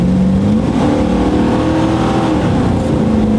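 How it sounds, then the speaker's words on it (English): A 1997 GMC Sierra pickup on big mud-terrain tires revs up, its engine note rising and falling steadily and loud throughout, heard up close without any talk. "let's give her a little bit of gas here"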